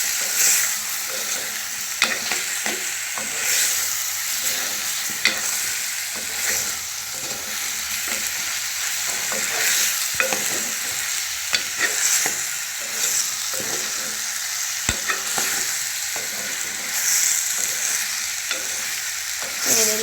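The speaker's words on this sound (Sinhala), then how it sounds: "එකතු කරලා චිකන් එකත් එක්කම මේක කලවම් කරගමු" Vegetables and chicken stirred together in sizzling oil in a pot for biryani: a steady frying hiss with repeated scraping, clacking stir strokes, close and continuous, with no voices.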